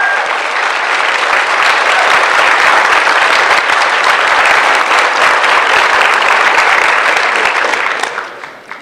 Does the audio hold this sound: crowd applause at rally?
yes